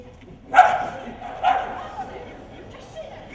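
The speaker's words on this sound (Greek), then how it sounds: "Πάει ο Σταύρος, αρχίζει να τον γαυγίζει." A dog barks twice in quick succession, close by, with a softer yelp trailing after and faint background noise between the barks.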